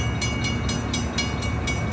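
A passenger train from Ottawa stands stopped at Casselman station in Ontario, giving a steady, fairly loud idling rumble broken by faint regular clicks, with no talking.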